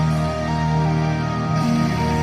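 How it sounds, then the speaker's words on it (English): Crunchy, distorted rock electric guitars sit in a song mix, playing loud, sustained chords with a thick, buzzing tone and no pause. "lay down some crunch guitars just to kind of give it some rock feel"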